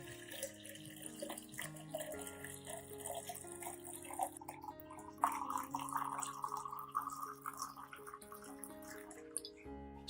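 Clean water poured into diluted rice water for an orchid root-boosting solution, a soft continuous pouring and trickling partly masked by steady background music.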